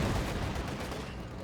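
Loud, dense battle noise from Company of Heroes 2, a World War II strategy game, as a T-34 tank fires its cannon at Panzer Grenadiers. The rumbling gunfire and explosions run continuously and no single separate boom stands out.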